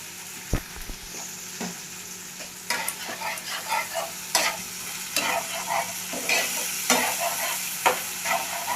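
Sour yogurt stirred into a frying tomato masala for stuffed pointed gourd, with a loud close sizzle and repeated spoon scrapes and knocks against the pan in an uneven rhythm, no voices.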